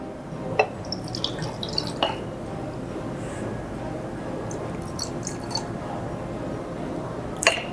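Cream soda is poured into a glass for a pumpkin spiced rum cider cocktail, giving a quiet liquid trickle with scattered drips and a few sharp glassy clinks near the start and end.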